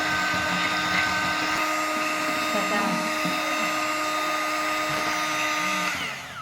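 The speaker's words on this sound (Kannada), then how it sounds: "ಇದು ಕ್ರೀಮಿ ಸ್ಟ್ರಕ್ಚರ್ ಬರೋ ತನಕ ನಾವು ಇದನ್ನು ಬ್ಲೆಂಡ್ ಮಾಡ್ಕೋಬೇಕು." Electric blender whirring steadily while blending homemade lassi until creamy, a loud continuous motor hum that winds down at the end.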